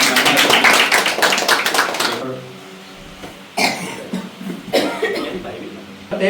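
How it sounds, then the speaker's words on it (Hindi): A church congregation claps in praise of God, with a burst of fast, dense hand claps up front that stops abruptly, followed by a few scattered claps mixed with voices. "तालियां बजा के प्रभु की महिमा"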